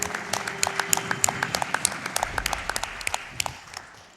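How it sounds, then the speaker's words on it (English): A crowd applauds at a live speedrun marathon event for New Super Mario Bros. 2, with brisk clapping that tapers off toward the end. "Let's clap for that."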